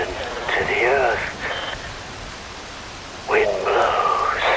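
Steady hissing rain falls throughout a scene in Metal Gear Rising: Revengeance, an even wash of noise under bursts of voiced, tonal sound.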